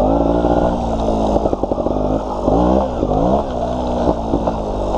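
A GasGas 250 two-stroke trial motorcycle, heard close and loud as it is ridden, its engine buzzing and revving up and down with uneven throttle blips.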